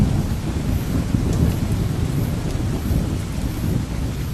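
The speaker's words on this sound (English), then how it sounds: "allowing lightning to strike, thunder to roar, and the heavens to open" Heavy rain pours in an Iberian forest during a thunderstorm, a loud, dense, unbroken hiss with a low rumble of thunder beneath it, and gusts of wind buffet the microphone.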